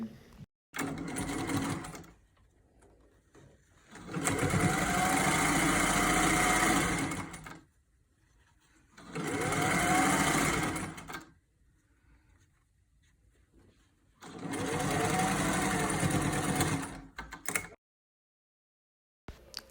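A sewing machine runs in three loud bursts of a few seconds each, finishing the edges of a fabric face mask, with short quiet pauses between runs.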